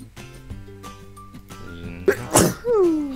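One loud, sharp sneeze breaks through background music, followed by a short exhaled vocal tail.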